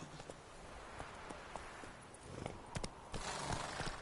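Horse hooves clip-clop at a walking pace in The Witcher 3, a steady rhythm of soft close thuds that picks up in density and loudness near the end.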